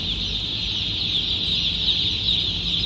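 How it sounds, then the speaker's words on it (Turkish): Broiler chicks fill a poultry house with dense, continuous high-pitched peeping that carries through the whole stretch, with no one speaking. "Bugün itibariyle yeni dönem çift kiliç civcivlerimizi işletmemize koymuş bulunmaktayız."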